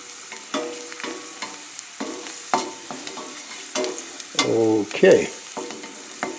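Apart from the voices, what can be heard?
sauteing garlic, Swiss chard and mushrooms, stirred with non-metal utensil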